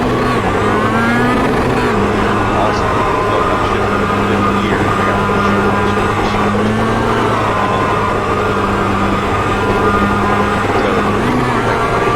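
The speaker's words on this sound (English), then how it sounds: "So it is rubbing metal onto the asphalt. And that's the sound." In the iRacing sim racing game, a steady engine drone with a constant rough scraping as a damaged car's wheel grinds metal along the asphalt, running loud and unbroken throughout.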